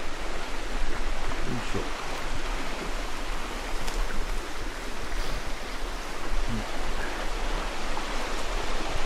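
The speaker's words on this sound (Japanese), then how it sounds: "せせらぎの音がいいよね、こういうところは" Babbling stream beside a riverbank with birch and mixed trees, a steady broadband rush of flowing water filling the scene close by, with a brief grunt of effort from a person.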